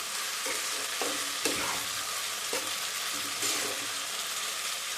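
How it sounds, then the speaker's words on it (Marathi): Two cups of sago pearls (sabudana) sautéed in hot oil with chillies for fasting khichdi, a continuous close sizzle broken by several spoon-stirring scrapes, no talk. "आता यामध्ये घालणार आहे हे दोन कप साबुदाणे घेतले होते ते यामध्ये घालू आणि असे छान असे परतवून घ्यायचे"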